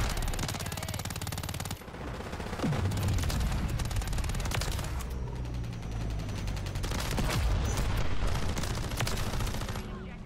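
Rapid automatic fire from a WSP Swarm in Call of Duty: Modern Warfare 3 multiplayer, bursts running almost continuously with dense crackling shots and low booms, loud and close throughout.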